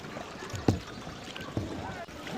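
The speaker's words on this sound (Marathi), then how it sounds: "अय्या मी बोट मारायला शिकलो जबरदस्त" Kayak paddles dipping into river water, two distinct splashing strokes over soft wind and water noise outdoors.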